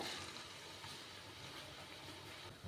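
Murukku made from idli batter and coconut milk frying in hot oil, a steady close hiss and bubbling that holds evenly throughout with no talking.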